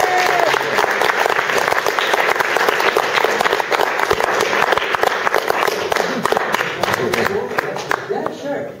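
Audience applause after a live music performance in Reading, a steady, dense wash of clapping from a crowd that holds at full strength for several seconds before thinning slightly.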